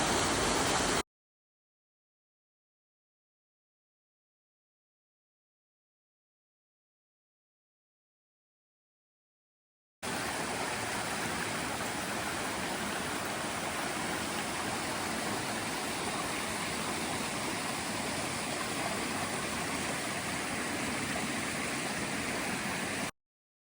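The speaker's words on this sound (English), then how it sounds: "This river with many waterfalls." A river with many waterfalls along the Camino rushes with a constant broadband roar, steady and full, after a brief burst and a long stretch of silence.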